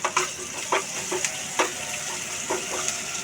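Ginger garlic paste sizzles in a pan with curry leaves while a spoon stirs it, giving a steady frying hiss broken by repeated scraping strokes, close and with no talking.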